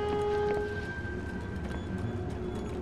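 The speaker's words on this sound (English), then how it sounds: "there's a fucking choo-choo train out here" A train in a dark forest in the video game Outlast 2, heard as a steady sustained horn-like tone over rumbling low noise, fading slightly after the first half second and continuing as a loud, constant mechanical drone.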